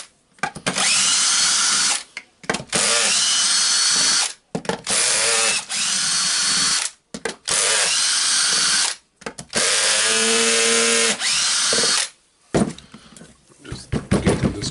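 Power drill or impact driver backing screws out of a Hilti TE905-AVR demolition hammer during disassembly, with repeated loud bursts of whirring and ratcheting separated by short pauses, close by.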